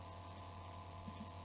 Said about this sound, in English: The sound of my steam train sounding laptop